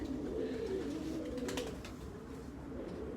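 A large pigeon coos steadily and low, a soft continuous burbling close by with a faint flutter of higher noise midway.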